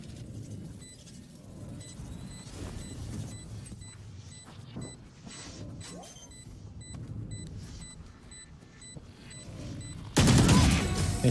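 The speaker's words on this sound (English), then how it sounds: "Swarm grenade out." Swarm grenade bursts in Valorant on the Icebox map: a rapid series of popping explosions crackling over game ambience, ending in a loud burst of noise.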